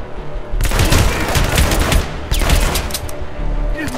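Rapid gunfire in the video game Hitman comes as loud, dense bursts of automatic shots, two long volleys close together with a brief break between.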